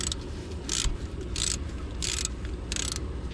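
A ratchet loosens a bolt during a front brake pad replacement on a 2006 Toyota Sienna, with four evenly spaced bursts of rapid clicking, close, over steady background noise.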